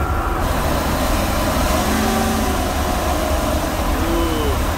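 A tow van's engine running with one ignition coil pulled, producing a continuous, loud, slightly uneven rumble with a rough shake to its idle and no breaks.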